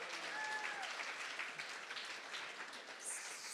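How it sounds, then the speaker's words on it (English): Steady applause from an in-person crowd at a Big Brothers Big Sisters of Northern Sierra gathering, soft and somewhat distant, a continuous even patter of clapping throughout. "Can we just get a round of applause for that?"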